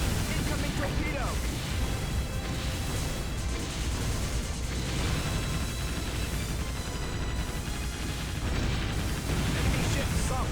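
Explosions from enemy ships sinking in the Warship Gunner 2 naval video game, a dense, continuous rumble of booms and blasts under a voice talking throughout.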